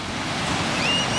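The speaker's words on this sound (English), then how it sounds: "We're at the beach." Ocean waves wash steadily onto a beach near a pier, a continuous broad surf roar with some wind buffeting the microphone.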